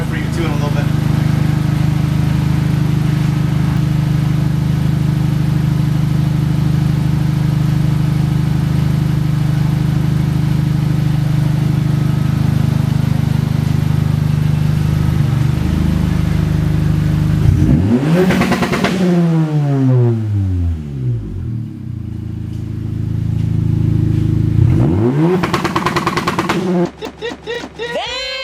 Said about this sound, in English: I'll give it a rev for you too in a little bit.